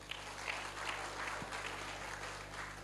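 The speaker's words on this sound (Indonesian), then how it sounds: "Tepuk tangan buat Anda semua." A business seminar crowd gives faint, distant applause, a steady wash of many hands clapping over a low background hum.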